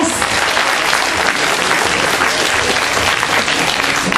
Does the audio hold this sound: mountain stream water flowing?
no